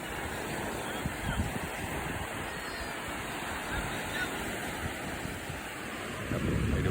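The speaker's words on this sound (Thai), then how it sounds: "มีอากาศสดใสครับคลื่นลมไม่แรง" Gentle sea waves and wind wash along the shore at Tha Chana, Thailand, a soft, steady surf hiss with light wind buffeting the microphone, swelling slightly toward the end.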